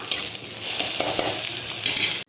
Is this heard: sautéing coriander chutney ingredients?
yes